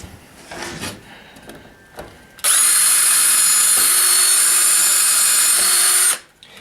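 A power drill bores into plywood in a workshop, a loud steady high whine running for about four seconds after some quiet handling noises, then stopping abruptly.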